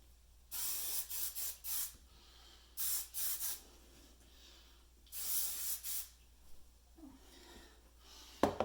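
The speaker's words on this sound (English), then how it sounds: "So this is where I kind of hit it with some more hairspray." Hairspray is sprayed onto curled hair in several short hissing bursts, some clustered in quick pairs and triplets, separated by quiet pauses, with no speech.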